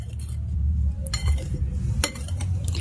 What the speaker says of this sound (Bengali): এবার একটি হ্যান্ড উইচ দিয়ে আমি খুব ভালো করে শুকনো উপকরণগুলো মিশিয়ে নিচ্ছি।